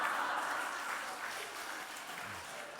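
A church revival audience applauds softly, a diffuse patter that gradually fades over a few seconds.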